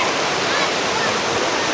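Tagbanakaw Falls in Panibasan, Maco, Davao de Oro, a waterfall roaring with a loud, dense, steady rush of water that fills the whole short clip.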